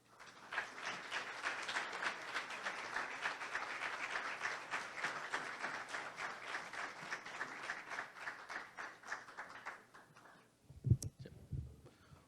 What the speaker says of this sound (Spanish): del doctor Álvaro Ramos Chávez, para quien pido un aplauso.